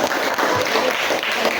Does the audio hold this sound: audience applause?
yes